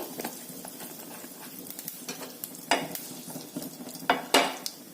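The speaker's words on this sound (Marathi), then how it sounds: "कांदा आता छान परतला गेलाय" Onions sizzle and crackle steadily in a hot pan, with sharp scrapes and clacks from stirring popping up now and then.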